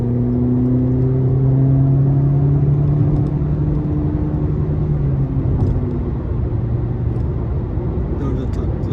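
A Citroen C3 1.4 VTi engine with a semi-automatic gearbox hums loudly up close, its pitch climbing and then dropping as the gears change, with brief clicks near the end.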